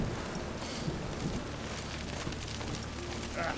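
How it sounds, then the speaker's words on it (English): Steady rainfall in The Witcher 3 video game, set in the city of Novigrad, a continuous broadband hiss of falling rain with a soft low rumble throughout. "It's raining again."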